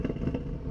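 A 2017 Audi RS3 sedan's 2.5-litre five-cylinder engine gives a short, loud, gruff rumble, a deep growl heard alone and close.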